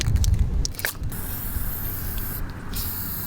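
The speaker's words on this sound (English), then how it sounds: "You're gonna spray right next to this dot." Spray paint hisses from an aerosol can marking a spot right next to a dot, a close, continuous airy spray with a few scrapes and handling noises mixed in.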